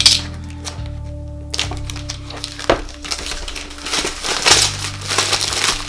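Crinkly plastic film is peeled and pulled off the packaging of a Zhiyun Smooth 4 phone gimbal, a busy run of close crumpling and rustling with a few soft thuds over a steady low hum.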